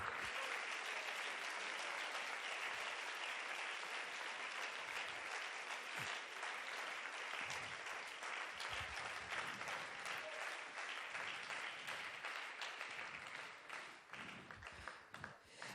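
A church congregation applauds during a sermon, a long, even roar of clapping from many hands that holds steady before thinning toward the end, heard at a moderate distance.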